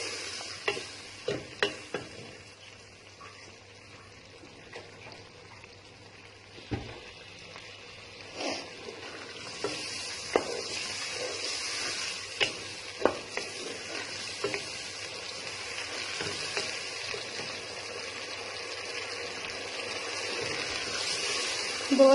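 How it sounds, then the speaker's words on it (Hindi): Boiled green peas frying in a spiced masala, stirred with a spoon in a pan for a mixed vegetable dish; a steady soft sizzle runs throughout, broken by repeated scraping and clicking strokes of the spoon. "इसको 2 मिनट हम फ्राई करेंगे अच्छी तरह।"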